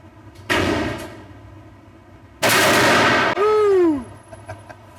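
Two loud booming shotgun blasts from a Mossberg 940 Pro firing Winchester 1,600 fps Silver Edge slugs, each with a long echoing tail, the second followed by a falling ring, with no talk over them.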